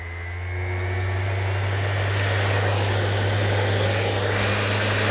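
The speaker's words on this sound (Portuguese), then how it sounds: "acionei o equipamento, ele vai acionar automaticamente o aspirador" A fine-particle vacuum cleaner switches on automatically when a connected power tool starts, its steady motor hum rising over the first second and then holding a constant, fairly loud whine with no voices.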